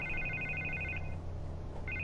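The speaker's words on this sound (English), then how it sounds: "I can't get the phone to stop ringing." A telephone rings with a repeated electronic trill in two bursts separated by a short pause, set over a steady low hum in a quiet room, with no one talking.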